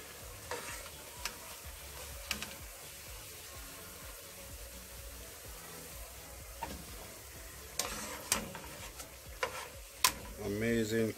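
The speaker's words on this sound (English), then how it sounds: "bammy does not take long to fry" Bammy, a cassava flatbread, frying in a pot of oil, a soft steady sizzle with occasional ticks and clinks of utensils, fairly quiet and close, no speech.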